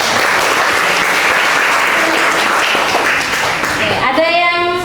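Classroom applause from a group of students fills the space as a steady dense patter, loud and close, with some voices mixed in and a brief tonal sound near the end.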